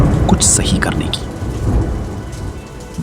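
Rain pours steadily while low thunder rumbles through it, a dense wash of falling water with deep grumbling beneath.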